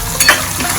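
Green onion curry in Kathiyawadi style is stirred in a pan, a quick scrape of a spoon against metal over a steady sizzle, short and close.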